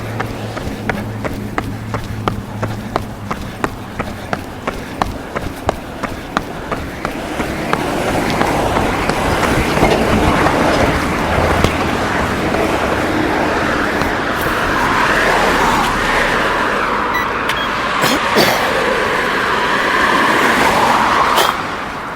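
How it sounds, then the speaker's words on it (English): Steady road traffic near a junction, cars rumbling and passing close in a continuous wash of engine and tyre noise, preceded by rhythmic ticking thumps; no talk. "you won't have to hear too much traffic."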